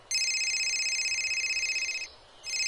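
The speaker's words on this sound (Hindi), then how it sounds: "मेरे बेटे का फोन आ रहा है।" A telephone rings for an incoming call with a loud electronic trill, one long burst that breaks off briefly and then starts again.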